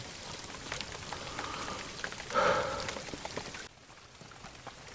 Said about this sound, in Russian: Поливает дождь.